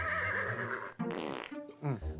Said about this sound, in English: so you may have noticed the horse just farted